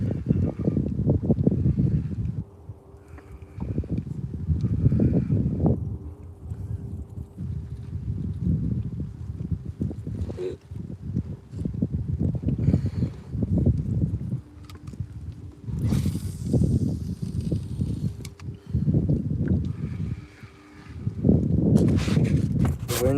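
Wind gusting over a lake around a canoe during pike fishing, a steady low rumbling buffet of the microphone with surges and dips, continuous and fairly loud throughout, with water sloshing faintly against the hull.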